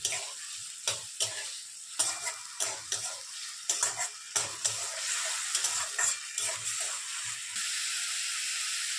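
Spice masala stir-fried in a pan with a splash of water, a rapid series of spatula scrapes and knocks over a continuous hissing sizzle, close, then the sizzle carries on alone near the end.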